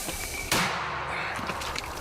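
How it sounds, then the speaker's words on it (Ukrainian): A single sharp gunshot cracks once, loud and sudden, then fades into a noisy outdoor background. "Постріл."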